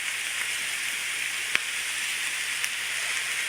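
Potatoes and onions frying in a pan, a steady broadband sizzle with a couple of faint pops, close and even throughout.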